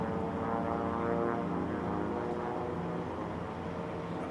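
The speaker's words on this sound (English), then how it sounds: "that little pass right we had in backstretch there was my old airplane passing the Christian Eagle" Racing biplanes in the Biplane Class heat of the 2022 National Championship Air Races roar past the pylons on the backstretch, a steady loud propeller-engine drone with no pause, one plane overtaking a Christen Eagle.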